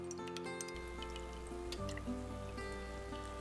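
Fish sauce poured into lotus root soup broth, a liquid stream trickling and splashing into the pot alongside faint drips, heard alone with no talking.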